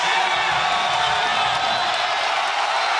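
A packed basketball arena crowd roars at a Houston home game against UCF in the 2018–19 season. The dense, steady wall of cheering and whooping stays loud throughout and never breaks.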